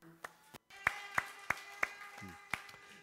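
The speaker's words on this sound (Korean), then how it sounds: "다 같이 박수." Scattered, separate hand claps in a classroom praise a student's answer, with about six sharp claps spaced roughly evenly over a few seconds against quiet background hum.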